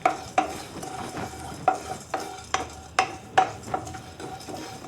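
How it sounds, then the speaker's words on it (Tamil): Cinnamon sticks and cloves dry roasting in a pan, stirred with a utensil that gives repeated sharp scraping clicks against the metal about twice a second, loud and close over a low steady background, with no talking. "2 சின்ன துண்டு பட்டை, 3 கிராம்பு போட்டு நல்லா ட்ரை ரோஸ்ட் பண்ணிக்கணும்"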